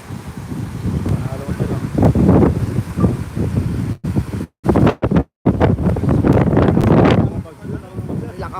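Strong wind roars and buffets the microphone in heavy gusts before a super typhoon landfall in Taiwan, while fishing, with the sound cutting out briefly several times midway.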